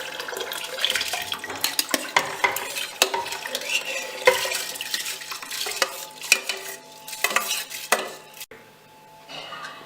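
Rice being stirred into mutton biryani in a pressure cooker, giving a busy run of scraping, clinking spoon-on-metal taps and soft wet shuffling close by, with no talk.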